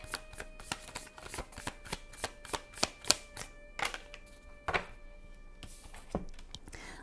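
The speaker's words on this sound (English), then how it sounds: "Oh, I dropped a card." Tarot cards are handled, tapped and picked up at close range, giving a series of sharp, irregular clicks and soft thumps that cluster in quick bursts over a faint steady hum.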